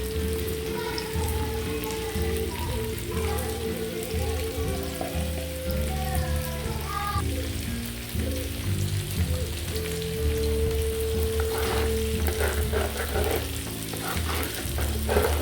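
Ground coconut paste poured into a simmering sardine curry and stirred, a continuous close bubbling sizzle like rain on a surface, with sloshing and utensil knocks that grow busier near the end, no talking.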